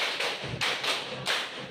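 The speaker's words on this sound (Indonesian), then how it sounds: "Tepuk lima kali." A classroom of students claps hands in unison, several sharp group claps in a quick, slightly uneven rhythm, moderately loud in a room.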